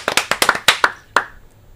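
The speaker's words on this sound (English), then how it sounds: "Golf clap." A light golf clap from a few hands on a radio show, about eight crisp separate claps in quick, slightly uneven rhythm, close and clear, trailing off into near silence.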